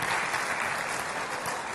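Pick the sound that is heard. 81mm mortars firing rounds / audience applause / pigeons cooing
audience applause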